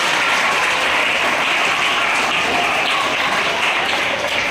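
Loud, dense applause from a large crowd at a Rudrabhishek ceremony in Thane runs steadily throughout without pause.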